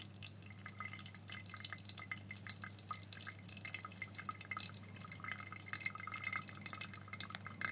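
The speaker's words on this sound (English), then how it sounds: "Now I poured a little bit quicker than I meant to on that brew" Hot water poured from a heavy kettle onto a coffee brew, a soft, steady trickle with faint drips and splashing, quiet and continuous throughout with no talking.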